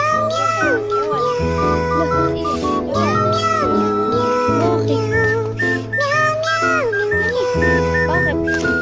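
Repeated meowing, rising and falling in pitch, over music with a steady backing; the meows sound close and prominent.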